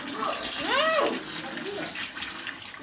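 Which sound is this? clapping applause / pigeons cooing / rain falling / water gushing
water gushing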